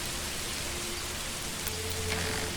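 Steady rain falls in the medieval city-building game Manor Lords, a dense, even hiss of drops on surfaces that continues unbroken throughout, with no voices.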